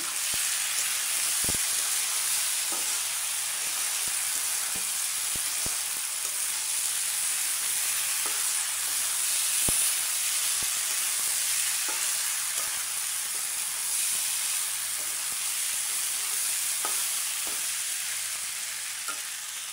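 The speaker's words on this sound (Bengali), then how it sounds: "এখন আমি চালগুলো দিয়ে ভেজে নিব।" Rice frying and being stirred in a pan while cooking egg and potato biryani, a steady close sizzle with scattered scraping clicks of the spoon throughout, no voices.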